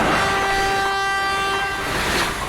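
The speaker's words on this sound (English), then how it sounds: "like the testing of the Swedish national alarm system. I've used that as train horn." The Swedish national alarm system's test signal, repurposed as a train horn, sounds as a sustained, loud tonal blast with stacked harmonics holding steady for over two seconds, alone without talk.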